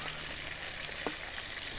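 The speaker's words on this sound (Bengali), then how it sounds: "এই মাছগুলো ভাজা হয়ে গেলে চুলায় তরকারি দিয়ে দিব" Fish frying in oil on a stove, a steady soft sizzle with a couple of faint clicks of a utensil, heard alone without voices.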